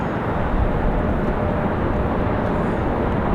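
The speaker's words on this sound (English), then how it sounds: "bit of a bumpy touchdown there for Breeze Airways from Fort Myers" A Breeze Airways plane from Fort Myers makes a bumpy landing at Raleigh-Durham International Airport, heard as a continuous, fairly loud broadband jet roar from a distance.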